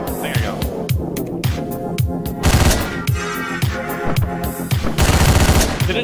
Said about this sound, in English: Did it not say quiet gunshots?